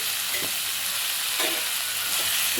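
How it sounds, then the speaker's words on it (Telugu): Chili powder is stirred into a frying masala for dried fish curry, giving a steady hiss of sizzling oil broken by a few soft scrapes of the spoon. "కొంచెం ఇలా కలుపుదాం. ఇలా కలిపినట్లయితే పచ్చి వాసన పోతుంది."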